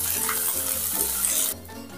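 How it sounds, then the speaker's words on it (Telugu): Cut green chillies fry in oil with a steady, close sizzle that stays even for a short stretch and then drops abruptly quieter near the end. "ఆ పచ్చిమిర్చి వచ్చేసి దోరగా వేయించుకోవాలి."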